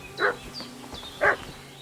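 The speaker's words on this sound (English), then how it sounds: "What's that dog making such a fuss about?" Two distinct barks from a dog in the video game Kingdom Come Deliverance 2, about a second apart, fairly clear over soft outdoor forest ambience with faint bird chirps.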